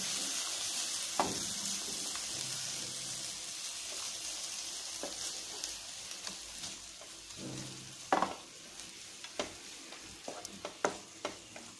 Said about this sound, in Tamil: எல்லாத்தையும் ஒன்றா மிக்ஸ் பண்ணிக்கணும்